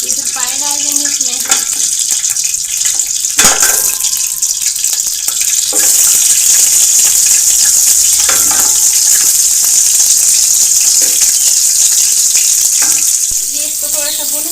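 Mutton trotters (goat paya) frying in a little oil in a pot, giving a steady, loud sizzle through the whole stretch with stirring scrapes and brief quieter moments at the start and end.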